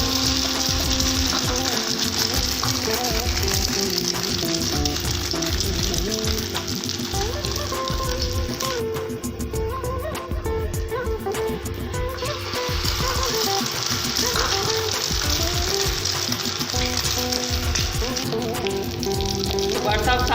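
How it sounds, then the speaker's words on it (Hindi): Shami kebabs fry in hot ghee with a steady, dense sizzle that runs loud and close for the whole stretch, with a faint mechanical whir and a little soft talk in the background. "तो घी गर्म हो चुका है, अब शामी में फ्राई करूँगी।"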